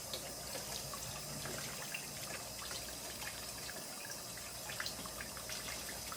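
Warm water runs steadily from a kitchen tap into a sink, a soft continuous trickle and splash with faint clinks, no talking.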